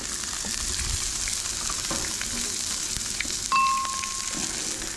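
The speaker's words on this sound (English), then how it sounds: "And we're just going to let those simmer for a bit." Tomatoes and capers simmer in a cast iron skillet with apple wine, giving a steady close sizzle and bubbling hiss throughout, with a brief high ring partway through.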